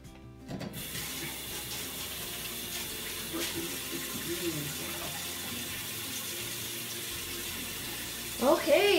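Tap water runs steadily into a kitchen sink while hands are washed, a close, continuous splashing hiss that starts abruptly after a brief pause and carries on to the end, with a faint voice near the close.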